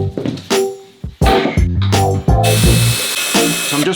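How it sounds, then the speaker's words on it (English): A power drill pre-drilling holes into the wooden panels of a handmade coffin, working at awkward angles: several short whirring bursts that rise and stop, with a longer high-pitched run near the end, loud and close. "So I'm just pre-drilling myself some holes because we're having to drill at awkward angles."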